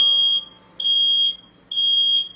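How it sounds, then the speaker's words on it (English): A piercing, high-pitched smoke alarm beeps in long repeated pulses, loud and close, with short gaps between each tone. "we set off the smoke alarm."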